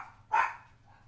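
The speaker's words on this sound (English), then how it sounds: "I hate it when dogs interrupt me" A single sharp dog bark rings out close by indoors, one brief loud woof against quiet room hum.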